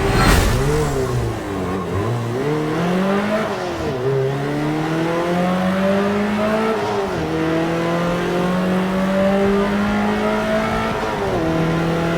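A race car engine in a racing video game revs loud and close, climbing in pitch through repeated gear changes with brief dips between shifts, a faint tire squeal at the start and no talking.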